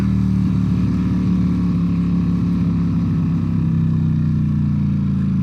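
A Ducati V4S motorcycle engine drones steadily and loud through a U-turn, a continuous low hum with faint wind buffeting and no voices.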